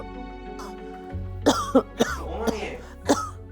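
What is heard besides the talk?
woman coughing and clearing throat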